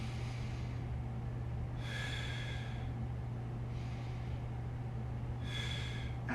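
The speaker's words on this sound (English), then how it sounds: "Let's take a nice deep breath in." Slow, deep breaths drawn in and let out through the nose during a neck and lats mobility routine, two paired inhale-exhale cycles, airy and close over a steady low hum, no talk.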